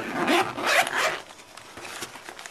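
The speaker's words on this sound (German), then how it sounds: "Ja, Reißverschluss draußen." Zipper on a first aid kit pouch being pulled open, two or three quick close rasping zips in the first second, followed by softer handling rustles.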